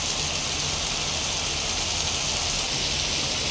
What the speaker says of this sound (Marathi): किती पाऊस आहे, चट लागायचं आहे अंगाला